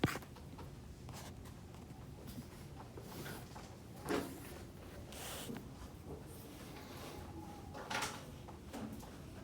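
A marker or chalk scratches and scrapes across a board as a math solution for Cramer's rule is written out in strokes, fairly faint and continuous with a few louder taps, with no talk over it.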